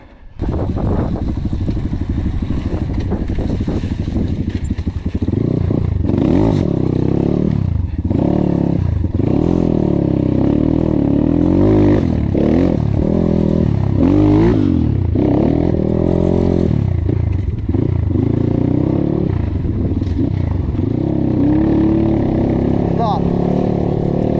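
A KAYA 612 motorcycle engine rumbles and revs continuously over a bumpy rocky road, its pitch rising and falling with clattering jolts, loud and close.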